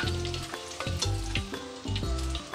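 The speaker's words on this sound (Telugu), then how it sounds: "ఇలా దోరగా వేగిన తర్వాత, గుడ్లు వేగిపోయిన తర్వాత తీసేసుకుని" Eggs fry in oil in a pan until golden, a loud steady sizzle close up with occasional stirring scrapes and no voices.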